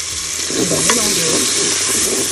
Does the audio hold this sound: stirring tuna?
yes